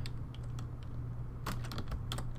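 Brisk typing on a computer keyboard while entering a calculation into the Desmos online calculator, a quick run of close, light key clicks over a steady low hum, with a denser burst of keystrokes midway.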